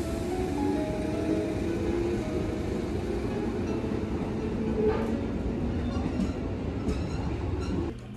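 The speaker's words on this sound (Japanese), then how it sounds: "9時ちょうど1番線から普通列車の甲府行きが発車していきます" A local train bound for Kofu pulls away from platform 1 at Shiojiri station, its steady rumble and rhythmic wheel clatter building close by, with faint squeals and clicks over a continuous mechanical hum.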